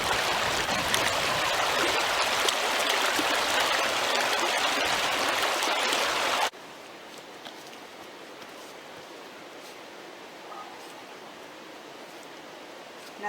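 Hoh River water flowing over rocks in the Olympic rainforest, a loud, steady rushing for the first half that drops abruptly to a quieter, distant wash.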